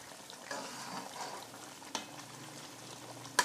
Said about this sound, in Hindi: आपने भी देखा होगा कि मैं बहुत हल्के हाथ से चम्मच चला रही हूँ।